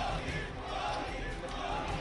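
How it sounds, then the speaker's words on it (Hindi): A crowd of Indian expatriates in Rome greeting Prime Minister Modi during the G-20 summit, chanting patriotic slogans as a dense, continuous roar of many voices, somewhat distant and steady. "माहौल में भारत माता की जय और वंदे मातरम के नारे गूंज रहे थे।"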